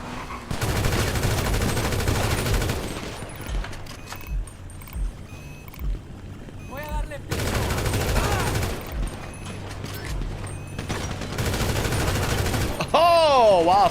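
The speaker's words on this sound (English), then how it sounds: "The hell, where'd he get the auto pistol from?" Rapid bursts of automatic pistol fire in GTA V Online during the Cayo Perico heist, loud and repeated in several volleys with pauses between, mixed with game sounds and voices talking over it.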